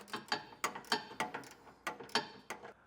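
A socket wrench on a 3/4 inch socket snugs down serrated flange nuts while a Curt trailer hitch receiver is fitted to a 2024 Mitsubishi Outlander, giving sharp, close ratcheting clicks in quick bursts with short pauses between them.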